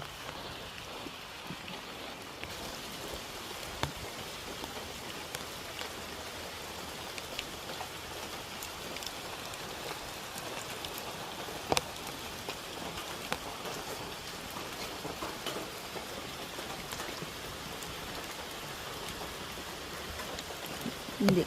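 Heavy typhoon rain from Typhoon Jacinto pours steadily onto a small house and the surfaces around it, a dense, continuous hiss of drops that keeps up without a break for the whole stretch.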